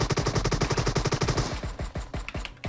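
Rapid automatic gunfire in a first-person shooter, a fast loud burst of shots for about a second and a half, then slower scattered single shots with ringing tails.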